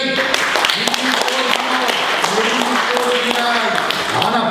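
Audience clapping at a Tamil literary speech, a dense burst of applause from a crowd, loud and steady, mixed with a speaker's voice talking over it.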